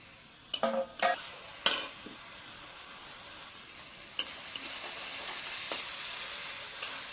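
Chopped tomatoes and turmeric frying in a hot pan give a steady hissing sizzle that swells after a few clattering stirs and spoon taps early on, close and moderately loud with no talking.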